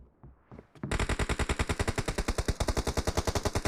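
Sustained automatic gunfire in PUBG Mobile, a loud rapid burst of evenly spaced shots rattling on for about three seconds after a few faint clicks and thumps, with no speech.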